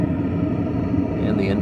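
Combustion exhaust roaring outdoors from a running Vevor diesel heater, a steady low rumbling drone with a vibrating, sputtering texture that holds evenly at close range for the whole clip.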